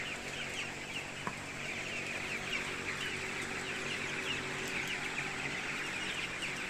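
Chickens cluck in a poultry house amid a dense, steady farmyard hum, soft scattered clucks under constant background noise, with no talking.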